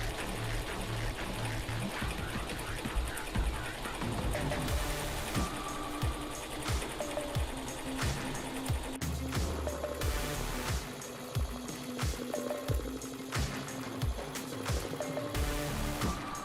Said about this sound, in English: I'm going to go ahead and I'm going to let the embroidery machine get to work.